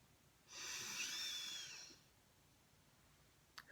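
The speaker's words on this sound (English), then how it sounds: "do 2 more deep breaths together." A single long, airy breath, loud and close, drawn and released over about a second and a half and then fading to quiet.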